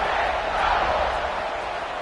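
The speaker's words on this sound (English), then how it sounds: "this crowd is buzzing after that last score" Crowd noise buzzes in a College Football 26 stadium, a steady, dense roar that holds at an even level for about two seconds with no talk over it.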